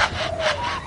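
A lyrebird mimics a handsaw cutting, giving a short, close, steady raspy rubbing stroke with a faint whistling tone running through it.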